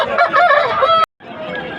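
Roosters at the Nallapadu poultry market crow loudly and close, one call breaking off abruptly before a second, softer crow follows.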